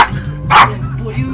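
A pet dog gives a single loud, close bark over a background hum, with a faint voice around it.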